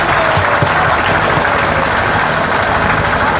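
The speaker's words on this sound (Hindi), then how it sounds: "उनके लिए जोरदार तालियां बजाओ एक बार।" Steady, dense applause from a large audience at a Srimad Bhagwat Katha religious gathering in Gorakhpur, Uttar Pradesh, loud and continuous throughout with no pauses.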